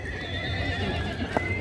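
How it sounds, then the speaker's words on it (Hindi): A restless Nukra horse at the Yeola horse market, a Dussehra fair, lets out a sustained, loud whinny close by. Low crowd noise and rumble run underneath. "घोड़ा शांत नहीं है क्या बिल्कुल भी?"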